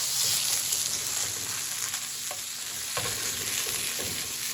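Chorizo scrambled and cooked in a pan, giving a steady frying sizzle broken by repeated scraping strokes of a utensil as the meat is broken up and pushed around.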